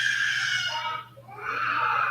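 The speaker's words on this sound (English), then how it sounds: "My baby's screaming." A baby screams in another room, a long shrill continuous wail that briefly dips, then rises again, loud and with no talk over it.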